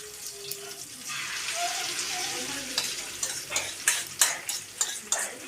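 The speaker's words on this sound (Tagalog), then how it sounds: "May prito na po ang ano, ang omelette." An omelette fries in a pan, a steady close sizzle with intermittent stirring and clinks rising toward the end, with some running-water-like hiss in the background.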